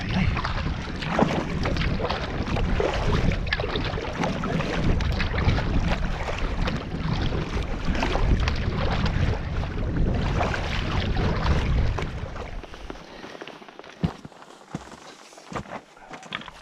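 Strong wind buffeting the microphone while pack-rafting on South Uist, a loud, continuous roaring rush for about twelve seconds that then eases into lighter gusts and scattered knocks.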